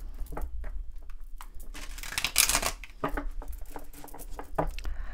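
A stiff tarot card deck being shuffled by hand, with soft repeated riffling, patting and papery slaps in uneven bursts, close and moderately quiet with no talking.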